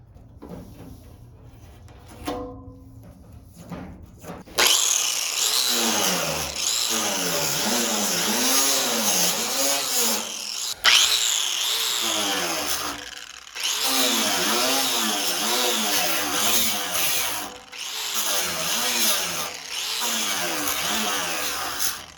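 A 4.5-inch angle grinder strips single-stage paint from the bed of a 1980 Chevrolet C30 dually truck. It whines loudly up close in long passes, its pitch rising and falling with load, with brief pauses and a quieter stretch at the start.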